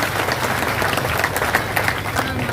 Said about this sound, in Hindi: जोरदार ताली बजा के एक बार इनका स्वागत